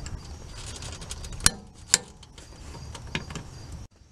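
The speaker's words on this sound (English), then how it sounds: "finally you're going to tighten down the bolt. Torque it down to 100 foot-pounds" Ratchet wrench tightening the dogbone mount insert bolt on a Volkswagen Golf R, with soft mechanical clicking and two sharp metallic snaps close by, no talking.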